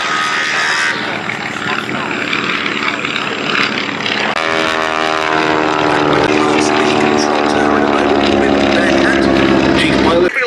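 A Beechcraft Staggerwing biplane flying at an airshow at Duxford, its propeller engine droning loud and steady throughout, with a shift in pitch midway, and a voice talking over it.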